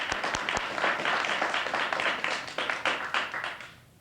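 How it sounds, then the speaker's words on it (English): A crowd at an awards ceremony applauds steadily for the judges, a dense wash of many hands clapping with a few sharp claps standing out at the start, fading slightly toward the end. "One round of applause for the judges, please"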